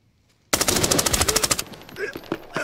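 Gunfire from a shotgun in the shooter game Arena Breakout Infinite, a loud rapid string of blasts bursting in after near silence, then scattered fainter shots and effects.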